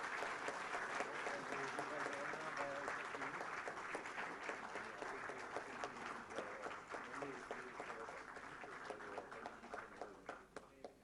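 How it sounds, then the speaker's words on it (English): Audience applause for a professor at a university award presentation, sustained clapping from a crowd that thins toward the end into individual distinct claps, with some voices mixed in. "May we have a round of applause for Professor Robert Fry Engle."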